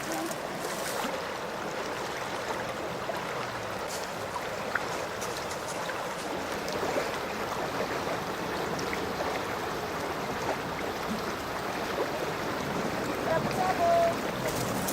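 Creek water at Bragg Creek flows steadily, a continuous close rushing and burbling that holds at an even level throughout.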